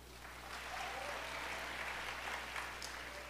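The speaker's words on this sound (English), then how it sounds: "Let's give a round of applause to tonight's lovely judges" An audience claps for the judges at a school pageant show, a steady wash of applause from a crowd in a hall, moderately loud and unbroken for a few seconds.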